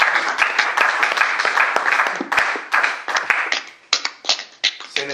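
Congregation at a church worship service applauding, a dense wash of many hands clapping that thins into scattered, separate claps toward the end.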